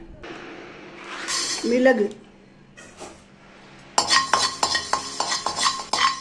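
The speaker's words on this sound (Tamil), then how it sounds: "இனிமேல் இருந்தால் பாருங்க பொரியிற சத்தம் கேட்குறது பாருங்கள்" Whole spices and black pepper dry-roasting for sambar powder in a pan, with stirring and scraping early on, then a burst of sharp, close crackling pops repeating over the last two seconds.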